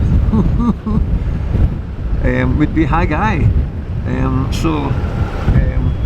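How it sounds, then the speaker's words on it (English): Gusty wind buffets the microphone with a constant roar while a person talks over it. "oh, it's quite windy there"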